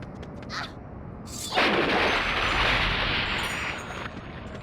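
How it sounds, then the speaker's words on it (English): Explosion effect from a Nintendo 64 prototype game: a sudden broadband blast around the middle that swells into a sustained roaring rumble and fades after a few seconds, preceded by quieter game sounds. "That explosion sound effect does not sound like what a jellyfish would make."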